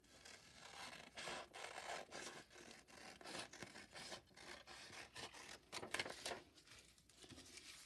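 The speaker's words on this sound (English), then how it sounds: "Let's cut out these shapes." Paper shapes being cut out with scissors: faint, close scratchy snips and rustles in an uneven rhythm, with no voices.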